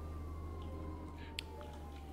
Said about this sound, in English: I'm gonna leave the siren on just so everybody stays out of my way.